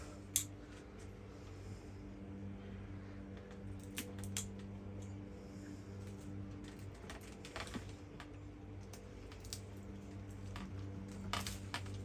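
Scissors snipping a bonsai branch, quiet scattered crisp clicks over a low steady background hum.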